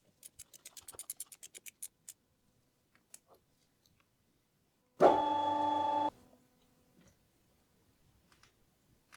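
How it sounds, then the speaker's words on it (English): Oil filter housing on a BMW N43 engine being cracked open with a tool: a run of light ticking clicks, then a single loud, sustained grinding burst lasting about a second, followed by scattered faint clicks in a quiet space. "First, I'm just going to crack the filter open so that the remaining oil from the oil filter housing can drain back into the oil sump."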